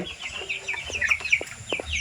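Hens cluck in short, scattered calls close by, with some higher chirps from tiger breed chicks mixed in over a faint rustling background.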